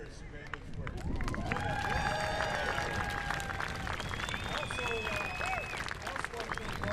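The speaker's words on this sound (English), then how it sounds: "can we get another round of applause?" Stadium crowd at a beach volleyball women's gold medal match in Edmonton applauds volunteers with steady, loud clapping and cheering, mixed with crowd noise and a tonal whistle or horn running through it.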